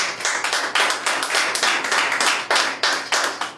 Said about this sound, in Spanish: Dale palmas de alabanza.